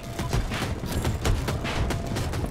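Kinetic launcher firing in the shooter Battlefield 2042, a dense run of sharp repeated shots and booms over constant battlefield noise, loud and near with no break.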